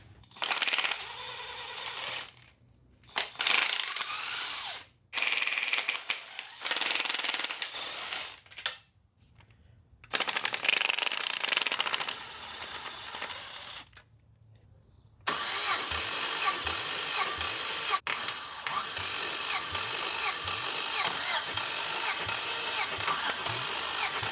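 A 1955 Ford F-100 engine cranking over with its spark plugs removed: several separate bursts of fast rhythmic starter churning broken by silent gaps, then a long unbroken crank to the end, close and loud.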